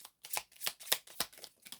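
Tarot cards shuffled and drawn during a reading, a quick run of crisp riffling bursts in an irregular rhythm, close and fairly quiet, with no talking.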